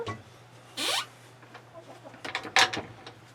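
Chickens cluck inside a coop cage, with a few close, short clucks and squawks rising over a low steady hum, including a louder burst midway.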